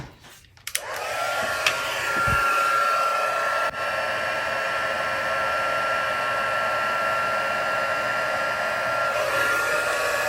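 A heat gun blows steadily on clear embossing powder on a handmade Valentine card, a continuous close, loud airy whir with a faint whine that runs nearly the whole time after a short start.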